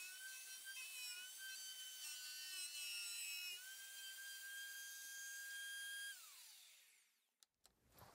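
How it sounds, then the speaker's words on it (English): A plunge router cuts through wood for a footed charcuterie board, a steady high-pitched whine with shifting tones that holds for several seconds, then winds down as the motor stops, followed by a couple of faint knocks. "the router worked like a charm"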